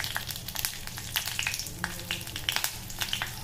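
Green chilies tipped into hot oil alongside cardamom and peppercorns hiss in a steady, close sizzle, with sharp crackling pops scattered throughout and no voices.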